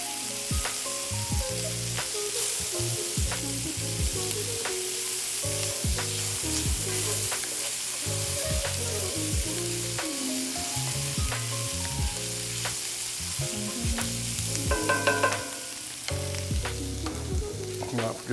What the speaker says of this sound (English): With our butter, we're gonna add in some garlic and some dried thyme. I'm gonna give these about a minute to cook